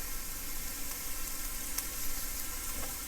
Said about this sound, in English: we'll just cook this until the onions get translucent